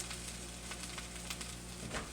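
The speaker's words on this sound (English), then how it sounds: "Ooh, see that sizzle." A butternut medley sizzles steadily in a hot pan, a constant crackling hiss with occasional sharper pops.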